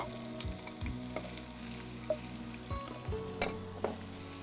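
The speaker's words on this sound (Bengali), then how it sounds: "তেলটা গরম হবে, এখন আমি পেঁয়াজ দিব" Onions hit hot oil in a pan with a close, crackling sizzle, punctuated by several metallic clinks and scrapes of a spoon stirring, all fairly quiet and free of talk.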